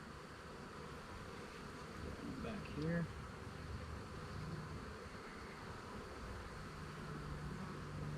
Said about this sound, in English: See some bees down on the bottom.